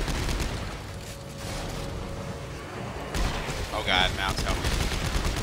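Gunfire from the sci-fi horror video game Dead Space 3, a dense, loud burst of rapid shots with game noise, followed by a person talking over it.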